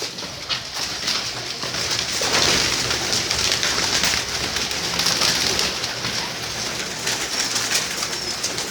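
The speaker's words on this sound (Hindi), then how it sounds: "ये देख लें आपके सामने कबूतर है साहब" Pigeons for sale in a loft or coop make a busy, continuous bird racket with soft cooing and fluttering, close and fairly loud throughout.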